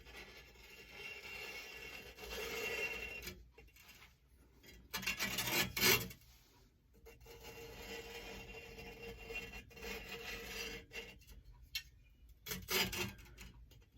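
A push reel mower's blades, coated in lapping compound, are turned against the bed knife, giving a quiet gritty rasping and ticking in repeated bursts separated by short pauses.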